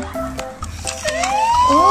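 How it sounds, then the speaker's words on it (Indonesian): An electronic siren wails from a small toy ambulance, rising in pitch over short repeating tones, close and fairly loud. "Oh, ini ada mobil ambulan. Ini sudah nyala ya teman-teman ya."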